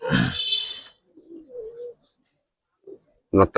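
Pigeons give a few soft, low coos separated by silent gaps, with short bursts of a human voice at the very start and end.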